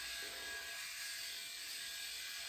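Electric razor with three shaving heads buzzing steadily at full speed without bogging down while shaving neck hair, a close, even, high-pitched whir heard alone.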